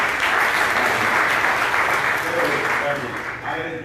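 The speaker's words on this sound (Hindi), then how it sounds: "जोरदार तालियां खुदा के लिए।" A sermon congregation breaks into loud, dense applause that holds steady for about four seconds and thins slightly near the end, with a few voices mixed in.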